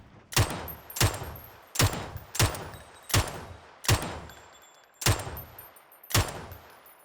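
Gunfire in a video game shooter: eight loud, sharp bursts spaced roughly a second apart, each with a short ringing tail, with no talk.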